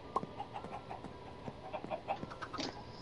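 Minecraft chickens cluck repeatedly in short clipped calls, a flock of game fowl chattering unevenly at low-to-moderate level with no voices over them.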